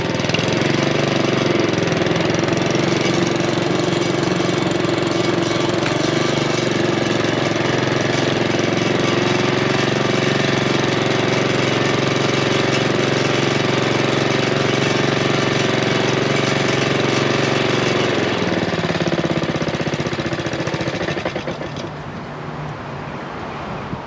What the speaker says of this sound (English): Let's test out the new drive system on the lawnmower.